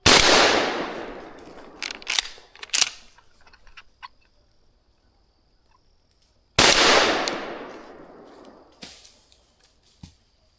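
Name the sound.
shotgun shots fired at a squirrel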